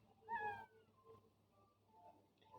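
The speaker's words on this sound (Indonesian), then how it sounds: "Kucing di atas." A single close cat meow rises and falls over about half a second, followed by quiet room noise with faint sounds in the background.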